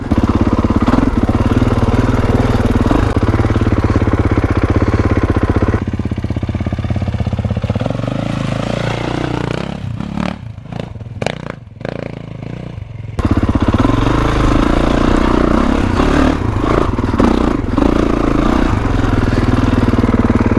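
A 2021 Kawasaki KX450X dirt bike engine on a trail ride, a steady close rumble that drops away midway into quieter sputters and throttle blips before surging back to a loud, sustained drone.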